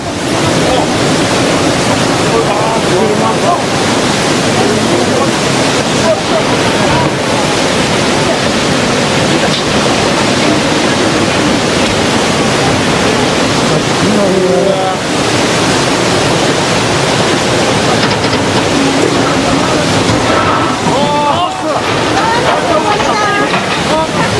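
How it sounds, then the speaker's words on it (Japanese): Large tsunami waves surge in at Kesennuma, Japan, a loud, continuous roar of rushing water that fills the whole stretch, with voices calling out faintly beneath it. "かなり大きな津波が押し寄せております。"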